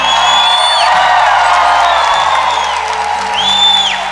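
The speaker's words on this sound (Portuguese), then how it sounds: "Quem acredita, aplaude e grita." A church congregation at a Pentecost service bursts into applause and shouting, a loud, sustained roar of clapping with whoops and cries rising above it.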